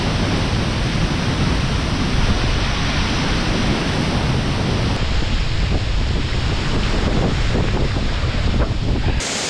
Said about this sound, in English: I'm behind Navajo Falls right now.